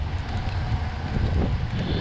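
Wind buffeting a microphone outdoors in a river valley on a long bike ride, a continuous low rumbling roar with fluttering gusts and no voices.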